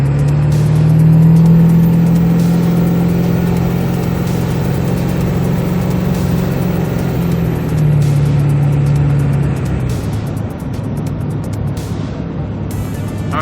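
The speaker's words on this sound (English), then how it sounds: "Now I'm going to try to get on the throttle and show you what it does when you get on the throttle." A 7.3 Powerstroke diesel truck engine revs under throttle, a loud, steady drone that climbs and holds near, with a second surge around the middle and settling toward the end, no talking.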